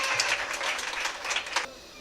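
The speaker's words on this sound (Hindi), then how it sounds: "तालियां बजाकर हौसला अफजाई कीजिए बराए मेहरबानी।" Applause at a prize distribution for an International Women's Day felicitation program, a modest patter of clapping from a small audience that swells in bursts then cuts off near the end.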